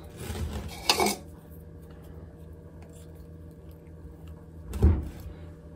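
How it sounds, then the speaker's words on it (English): Peanut butter gets scooped into a measuring cup for fudge, two short sticky scrapes and knocks of a spoon against the cup, separated by a quiet stretch with faint background hum. "I'm going to scoop my peanut butter into my measuring cup"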